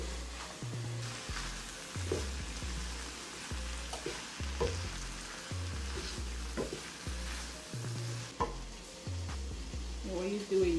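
Cabbage frying in tomato sauce and oil, stirred with a spatula in regular rhythmic scrapes over a soft constant sizzle, with a few sharper knocks against the pan.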